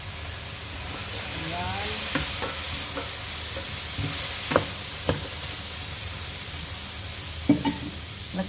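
Green beans stir-frying in a hot pan, a continuous sizzle and hiss broken by several sharp scraping clacks of a spatula, with a brief spoken word over it.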